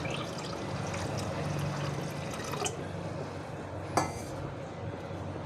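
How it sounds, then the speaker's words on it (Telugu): Water pours into tamarind juice in a pan, a continuous splashing and trickling fill with a sharp clink of metal near the end, no voices. "ఆ తర్వాత మీకు కావాల్సిన వాటర్ యాడ్ చేయండి."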